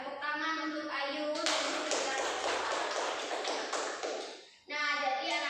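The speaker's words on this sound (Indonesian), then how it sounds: "tepuk tangan untuk Ayu" A second-grade class of young children gives a classmate a dense round of applause lasting about three seconds, close and lively, with a teacher's voice heard just before and after.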